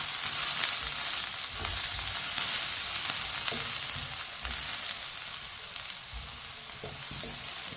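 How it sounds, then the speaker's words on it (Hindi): Finely chopped onion fries in a couple of spoons of oil, giving a steady, soft sizzle close by. Occasional light scrapes come from a spoon stirring it, and no one speaks. "इसी तरह चम्मच चलाते हुए ब्राउन करना है प्याज को।"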